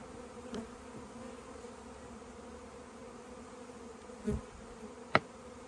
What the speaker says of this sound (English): all the bees that are flying around here are congregating on top here